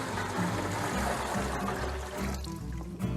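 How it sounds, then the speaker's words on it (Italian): Water is poured steadily into a container outdoors beside a wood fire while preparing old-fashioned homemade soap with caustic soda, a continuous close rushing splash lasting several seconds with no talking. "Cominciamo con mettere l'acqua"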